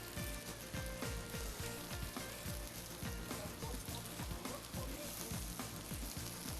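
Onions sizzle steadily in hot olive oil in a pan, a close, dense crackling hiss with rhythmic scraping stirs, no talking.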